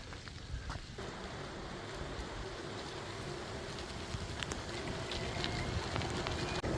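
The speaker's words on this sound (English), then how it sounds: "Just a moderate sprinkle. Well, more than a sprinkle." Moderate rain falls steadily during an outdoor bike ride along the C&O Canal towpath, a continuous close hiss of drops with faint wind and no talking.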